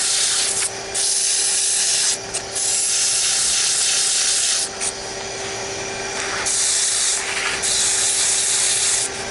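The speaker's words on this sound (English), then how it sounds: "I want to kind of just do a quick sanding, then take a peek at it" Steady abrasive rubbing of sandpaper against a wooden muddler spinning on a lathe, loud and continuous with brief dips where the paper lifts off the wood.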